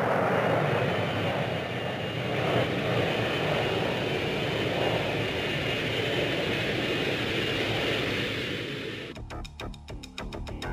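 A McDonnell Douglas F-4 Phantom II jet aircraft roars past, a loud, steady broadband engine rush that holds for about nine seconds before breaking into choppy fragments at the end.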